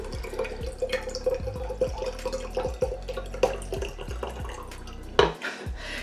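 Hydrogen peroxide is poured into a jar of water, giving close, trickling splashes broken by sharp glassy clinks and scattered drips, loud and near with no talking.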